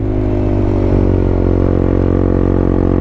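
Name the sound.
Honda CB150X motorcycle riding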